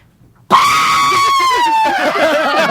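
A group of people scream together in a loud, sustained shriek lasting about two seconds, then breaking into ragged, wavering cries near the end.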